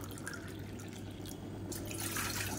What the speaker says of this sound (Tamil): இதில் வந்து தண்ணி சேர்த்துக்கலாம்.